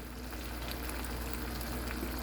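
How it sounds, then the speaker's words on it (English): Barbecue sauce bubbles gently around meatballs in a pan on medium heat, a soft steady simmering hiss and faint popping heard up close without speech. "I turned this up to medium. You can see it boil a little bit."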